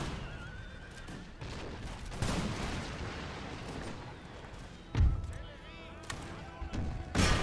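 Musket volleys from fusiliers in a house during an Imperial Splendour battle. They sound as several sharp bursts over a rumbling battle din, with someone narrating throughout.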